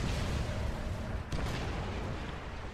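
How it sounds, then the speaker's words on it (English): Artillery barrage in the real-time strategy game Supreme Commander 2, a steady dense rumble of distant booming shots pounding tanks, with one sharper burst partway through, all fairly quiet and with no talking over it. "letting his tanks get massacred by the artillery"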